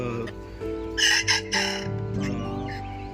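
A free-range rooster crows loudly and close by in two strong bursts, with other chickens clucking and calling steadily around it.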